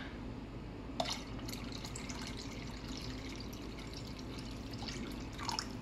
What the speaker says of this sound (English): So I'm going to add some water until I hit the 2/3 mark.